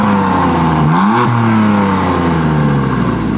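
A BMW engine on its stock exhaust revs loudly and close, climbing and then settling into a steady, throaty drone.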